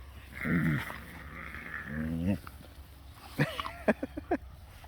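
Puppies growl and whimper in short bursts while wrestling close by, with a few sharp yips near the end.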